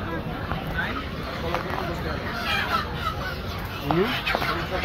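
Local chickens and roosters cluck and squawk in scattered calls amid a busy crowd at a poultry market, with people talking throughout.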